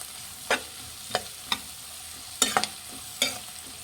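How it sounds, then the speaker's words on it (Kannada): Cumin seeds frying in hot oil with fried onions for Guntur chicken, a soft steady sizzle broken by a handful of sharp spoon scrapes and taps against the pan, no talking. "ಫ್ರೈ ಮಾಡಿ ಜೀರಿಗೆ ಹಾಕ್ಬಿಟ್ಟು"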